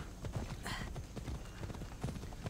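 Horse hooves clip-clop at a steady trot in Assassin's Creed Odyssey, a continuous stream of close, rhythmic thuds over game ambience.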